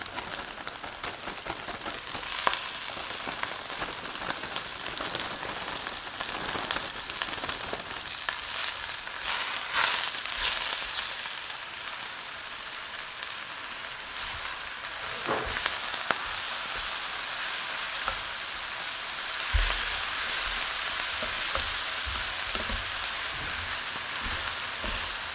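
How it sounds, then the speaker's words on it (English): Baby spinach cooking down in a hot pan for a salmon Wellington filling, a steady crackling sizzle with a few louder pops and scraping stirs along the way. "We're gonna add the baby spinach and let that cook down until it's wilted a bit."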